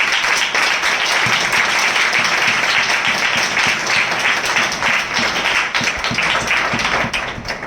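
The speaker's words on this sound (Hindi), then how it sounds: "हम जोरदार तालियों से उनका स्वागत करें" Loud, dense applause from an audience at a church gathering, many hands clapping continuously for several seconds and tapering slightly at the end.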